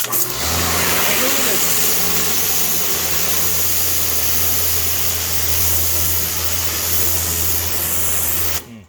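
An Italian KW35 high-pressure washer runs with a turbo nozzle fitted, giving a loud, continuous hissing spray over a low steady motor drone that holds for several seconds and then stops.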